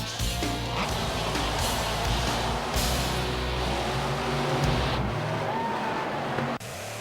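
Monster truck engines roar continuously while racing, a loud, dense rumble that swells and surges, then drops off abruptly near the end, with no speech.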